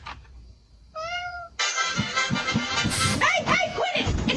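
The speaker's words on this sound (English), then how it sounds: "It's the cat again." A cat meows late at night amid a noisy scene, one clear drawn-out meow followed by a burst of loud clattering and mixed sounds, with a person talking over it.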